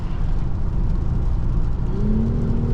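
Engine and road hum inside a 2024 VW Atlas Cross Sport SEL Premium R-Line on a test drive, a low, steady drone that rises into a climbing whir as the SUV accelerates near the end.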